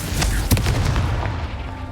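A Confringo blast spell in Hogwarts Legacy explodes as a single deep, rumbling boom with a sharp crack at its peak, close and loud, then a short fading roar.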